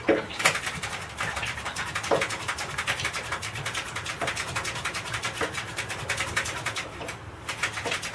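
A bird at a house window, close and fairly loud, giving pigeon-like calls among rapid repeated tapping and fluttering against the glass, with no talk.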